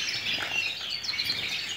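A small pet bird in moult chirps and tweets in quick, high bursts nearby, a continuous light twittering without talk.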